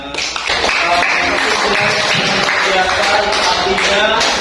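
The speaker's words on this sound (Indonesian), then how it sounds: "Terima kasih tepuk tangan." A classroom of students claps together in a geography lesson, brisk, fairly loud applause with voices mixed in throughout.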